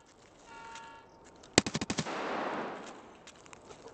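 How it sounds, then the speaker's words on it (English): Automatic gunfire in the shooter game Escape from Tarkov, a sharp burst of about six rapid shots with a trailing echo, fairly close and alone, followed by a faint later shot. "I just shot over there."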